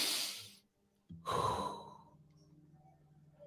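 A single deep breath, a long, audible inhale followed by a slow, breathy exhale that fades into quiet, close and fairly soft, with no talking.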